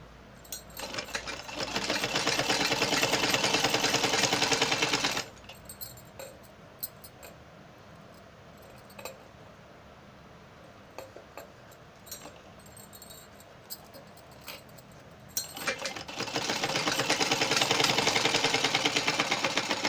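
A sewing machine stitches the lining of a half sleeve, running in loud steady whirring bursts at the start and end with a quieter stretch of faint clicks and handling noise between.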